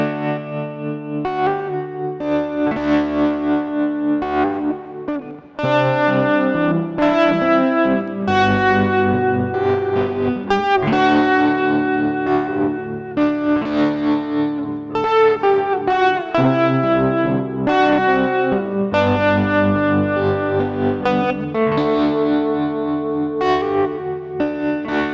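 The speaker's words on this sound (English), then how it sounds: "I'll start with some basic tremolo, since that's the oldest guitar effect and one of the most frequently incorporated into spaghetti western and country sounds" Electric guitar run through a tremolo effect pedal in a spaghetti-western, country style, playing sustained chords and single notes with a pulsing, wavering volume under a touch of echo and reverb, loud and steady with no talking.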